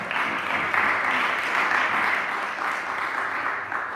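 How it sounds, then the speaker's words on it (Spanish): A church congregation applauding during a Spanish-language sermon, steady dense clapping filling the room for the whole stretch with no speech on top. "dele fuerte el aplauso al Señor."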